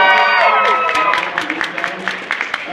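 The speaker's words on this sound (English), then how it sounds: "Round of applause." An audience applauds and cheers at a live comedy or variety show. A burst of clapping and crowd noise fades into scattered, sporadic claps.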